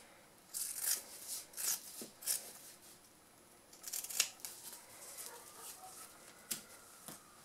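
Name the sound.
scissors cutting fabric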